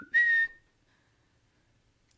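A single short, bright whistled phrase from one person imitates part of a K-pop song chorus, close and clear, followed by near silence.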